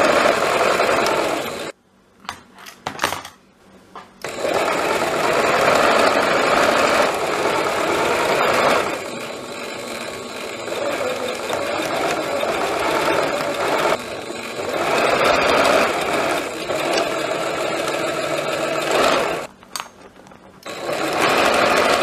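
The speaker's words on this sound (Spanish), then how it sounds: "Vamos a darle la costura en la máquina a la manga." Sewing machine stitching a shirt sleeve: loud, close bursts of rapid mechanical whirring, broken by short pauses between runs, with no talking.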